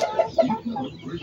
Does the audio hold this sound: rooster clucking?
yes